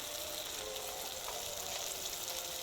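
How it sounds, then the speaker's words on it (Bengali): Chopped tomatoes fry in a pan, giving a steady, even sizzle that holds at a constant level throughout, close by and fairly quiet, with no voices over it. "দিয়ে একটু ভাজা ভাজা করে দিচ্ছি"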